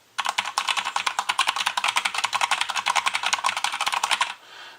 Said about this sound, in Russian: K95 RGB Platinum. Топ у Corsair, но очень шумная.